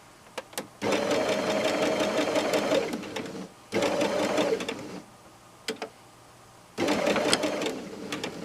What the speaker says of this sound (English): Drop your needle in and then sew along the crease.